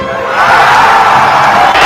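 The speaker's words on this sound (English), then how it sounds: "Everybody clapping out there." A studio crowd roars and cheers in a loud, dense burst that swells after a brief moment and holds steady until it ends.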